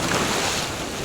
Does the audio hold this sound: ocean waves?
yes